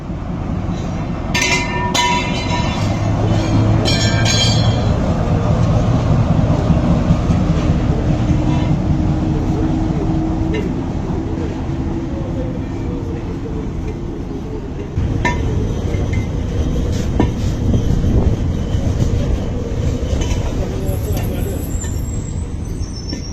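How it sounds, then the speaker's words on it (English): A diesel locomotive drags a worn-out, unpowered diesel multiple unit through a station in Tunisia, producing a loud, continuous rumble with clinks and brake hiss, and a fresh surge partway through. "there's this very knackered DMU being dragged by a loco"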